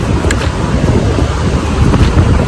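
Strong wind buffets the microphone on an Oregon beach, a loud continuous low roar with gusty surges and no talking.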